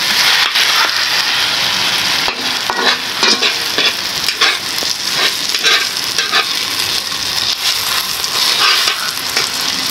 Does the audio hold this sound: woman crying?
no